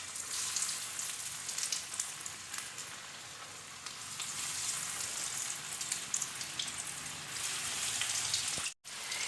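Egg kebabs frying in hot oil on a stove give off a steady, close, crackling sizzle that runs unbroken, with a brief dropout near the end and no talking.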